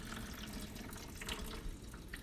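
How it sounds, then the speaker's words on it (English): Water draining from the drain filter of a Samsung front-load washer, a faint continuous trickle and splash into a container, steady and unbroken. "go ahead and just drain all that water till it comes out"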